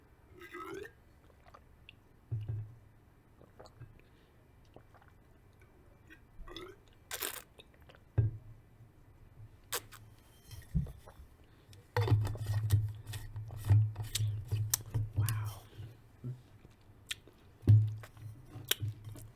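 Someone eats homemade apple cobbler, giving scattered soft close-up bites, chews and squishy mouth sounds in bursts, with a denser run of chewing midway, mostly quiet between sounds.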